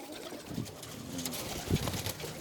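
Birmingham Roller pigeons coo softly in their loft, low throaty murmurs from a few birds among rustling and handling noise, close but quiet.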